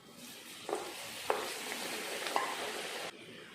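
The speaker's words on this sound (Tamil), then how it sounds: "ஆயில் நல்லா சூடாக இருக்குது. ஆயிலில் போட்டு பொரிச்சு எடுத்துடலாம்." Lentil pakoda batter deep-frying in hot oil gives a steady, close bubbling sizzle for about two and a half seconds, broken by a few sharp pops, and cuts off abruptly at the end.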